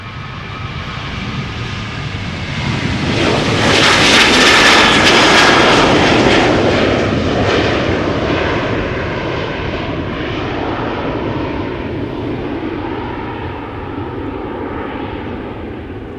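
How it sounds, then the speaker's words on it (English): A Ryanair Boeing 737-800 on flight 421 departs from Schiphol's Polderbaan runway for Dublin, its jet roar building to a loud peak with a whining engine tone, then receding into a long, steady fading rumble. "This is Ryanair, flight 421, 737-800, outbound to Dublin."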